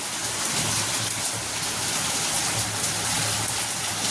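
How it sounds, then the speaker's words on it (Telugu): Steady rain pours down, a dense, even hiss of drops hitting surfaces close by, with no voices. "ఇక్కడ వర్షం పడుతుంటే చూసారా"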